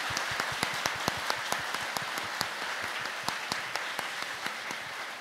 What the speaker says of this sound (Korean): 여러분들에게 치는 박수로 박수.